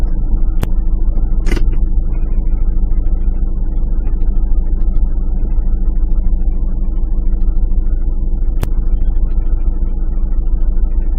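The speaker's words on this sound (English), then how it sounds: "right in the distance is an articulated lorry trying to get down" An articulated lorry rumbles along a road in the distance, a steady low drone of engine and tyre noise running throughout, with a couple of brief sharp ticks over the top.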